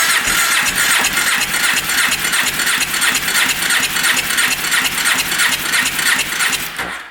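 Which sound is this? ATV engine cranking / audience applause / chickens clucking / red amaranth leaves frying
ATV engine cranking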